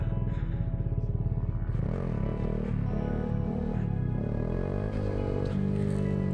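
A Honda Grom motorcycle engine drones close by at fairly steady revs while engine braking, with a buzzy, rattling tone throughout.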